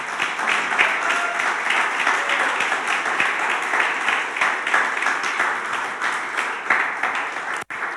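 Church congregation applauding during a Sunday morning service, a steady, even roar of many hands clapping that holds for several seconds with no talk over it, cut by one brief dropout near the end.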